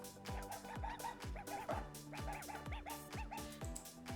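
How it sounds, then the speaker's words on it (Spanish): A dog in the Kumospace virtual space barking in a rapid rhythmic run of about a dozen sharp barks, close and clear over a soft background tone. "que si lo tocamos ladra"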